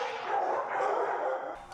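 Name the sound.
dogs barking at an animal shelter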